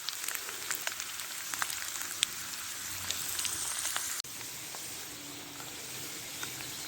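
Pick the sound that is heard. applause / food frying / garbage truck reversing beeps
food frying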